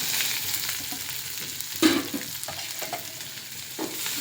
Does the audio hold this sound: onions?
yes